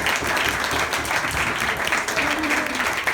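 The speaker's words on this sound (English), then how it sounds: "Give him a big round of applause." A crowd applauds steadily, a dense wash of clapping that holds at an even level for the full stretch.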